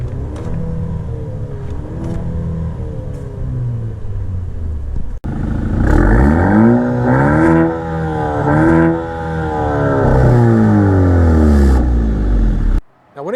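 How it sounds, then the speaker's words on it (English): Maserati Grecale Modena SUV engine in sport mode revved in a series of throttle blips, each rising and falling in pitch, with a voice talking over the engine near the start. "Let's give her some blips in sport mode."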